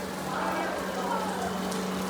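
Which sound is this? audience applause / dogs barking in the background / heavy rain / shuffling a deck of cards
heavy rain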